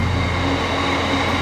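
A train rolling past near a canal while aboard a narrowboat, a loud steady rumbling drone with a low hum and faint rail noise, continuous and close.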